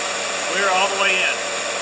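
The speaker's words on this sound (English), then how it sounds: "Now what I'm going to do is go turn the compressor off." An air compressor runs steadily in a home garage during lower ball joint work on a W123 Mercedes, a constant hum filling the whole stretch with a brief swell near the middle.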